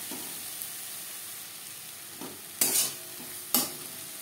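Ginger paste and green chili paste are stirred with onion and tomato in a pan for a katla fish curry. A soft, steady sizzle runs throughout, broken by two sharp spatula scrapes.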